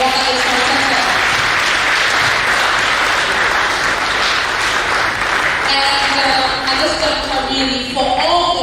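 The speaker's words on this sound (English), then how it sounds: "May we have another round of applause for Brother Ishmael." An audience gives sustained applause for a speaker at a Planetary Liberation Day event, loud dense clapping filling the room, joined toward the end by a voice speaking over it.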